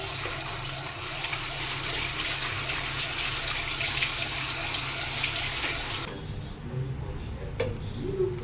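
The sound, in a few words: washing elephant foot yam under running tap water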